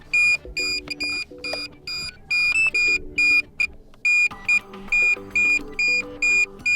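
A DJI Air 2S drone remote controller gives loud, close, evenly spaced electronic beeps in a steady repeating pattern, with a quieter tonal chime running underneath.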